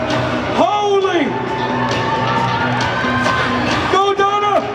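A crowd cheering and shouting at the Arnold strongman event, steady noisy encouragement throughout with louder whoops rising near the start and end, and an announcer's voice over the top.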